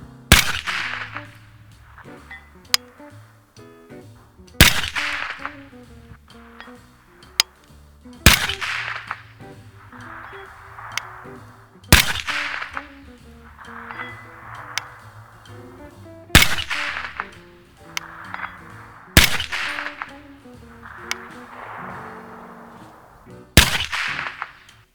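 Ensio Firearms KAR-21 semi-automatic rifle in .308 Win fired outdoors at long range: six loud, sharp cracks roughly four seconds apart, each followed by a rolling echo, with faint sounds in between.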